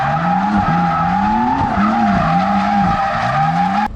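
BMW M3 under throttle on worn tires, a loud sustained squeal of skidding rubber that wavers in pitch over a droning engine, close and continuous for several seconds.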